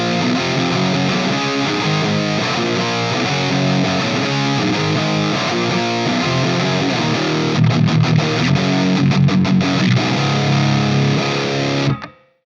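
Ibanez AS7328 baritone guitar through an FM9 amp modeler, high-gain pop-punk riffing: loud, dense distorted chords strummed steadily for about twelve seconds, with choppy palm-muted stabs near the end before stopping abruptly.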